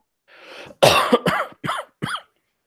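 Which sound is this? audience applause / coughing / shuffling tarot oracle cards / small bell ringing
coughing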